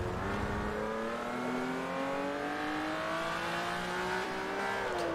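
A Ferrari race car engine in Forza Motorsport 3 winds up through a long rising rev, a loud, smooth multi-toned howl climbing steadily in pitch with no talk.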